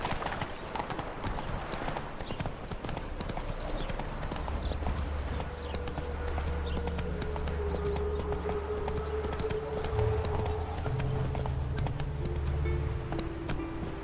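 Roach the horse galloping in The Witcher 3, a fast rhythmic clip-clop of hooves running steadily throughout, with low background music and game sounds underneath.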